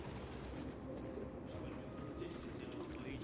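Pigeons coo in the Detroit Become Human video game, soft low murmuring calls set inside a steady ambient game soundscape, with a faint voice in the background.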